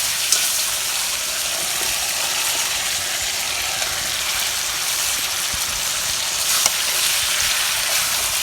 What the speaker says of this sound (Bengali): সিম দিয়ে কষাই নিব।